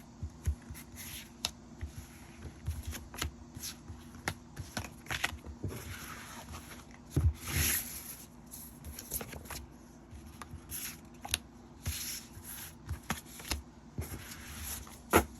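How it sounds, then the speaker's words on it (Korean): Tarot cards being shuffled and drawn by hand, a run of soft papery riffles, slides and taps coming close and clear in an otherwise quiet room, with irregular bursts throughout. "카드를 뽑아보도록 할게요"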